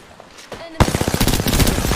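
Apex Legends gunfire: after quiet game ambience, rapid automatic weapon bursts suddenly begin and continue as loud, dense, closely spaced shots.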